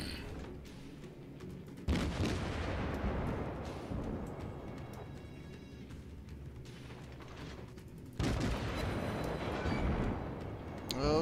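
Heavy cruiser gun salvos in World of Warships naval combat, two loud booming broadside volleys a few seconds apart, each followed by a long rumbling decay beneath mechanical creaks and game effects.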